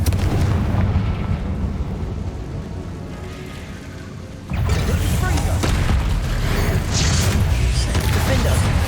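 Confringo spell explosions in the Hogwarts Legacy wizarding video game, heavy booming blasts that rise into a loud, sustained rumble of crackling detonations, with a voice speaking over the first part.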